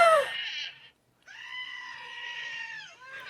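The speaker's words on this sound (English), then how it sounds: "I've got this Screaming Goat app" Screaming Goat app playing a goat's scream: a sharp bleating cry that cuts off, a short pause, then a longer wavering bleat, loud and close with no talk.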